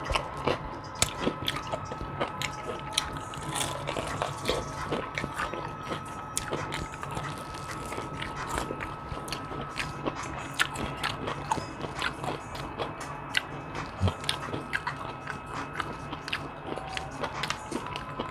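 Crunchy Nashville hot chicken wings, sauced, being bitten and chewed up close in a steady series of crisp crunches and smacking chews, with no talking.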